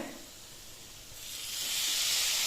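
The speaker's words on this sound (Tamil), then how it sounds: "இப்போது வினிகர் ஒரு மூடி ஊற்ற போகிறேன்" A steady hiss swells into a louder, brighter sizzle about halfway through as vinegar is poured into a hot pan, with no talking.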